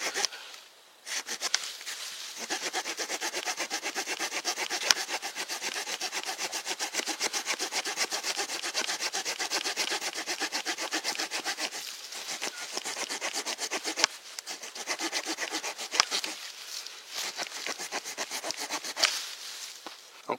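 Wood being cut with the small folding saw of a Leatherman Signal multitool outdoors, a brief pause, then long runs of rapid, rhythmic rasping back-and-forth strokes, close and steady, with a few short stops between bursts.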